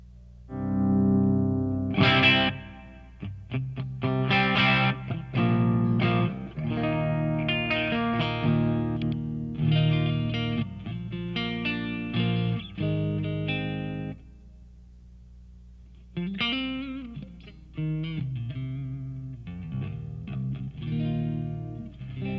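A clean electric guitar plays chords and melodic phrases through a Blackstar HT-1R amp's clean channel into a Marshall 4x12 cabinet with Celestion Vintage 30s, ringing clearly with a little chorus shimmer, then a short pause and more notes.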